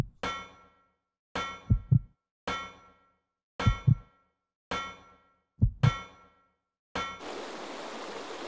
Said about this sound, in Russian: И даже сердце бьется у Криса